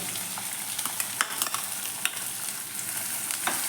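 Finely chopped onion sizzling and frying in hot oil with ginger and garlic for a bitter gourd masala, a steady broad hiss with scattered crackles and soft stirring scrapes, close and with no voices.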